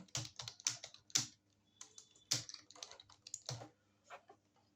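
Text is typed on a computer keyboard, with close, clicky keystrokes in quick irregular runs and a few heavier key hits standing out.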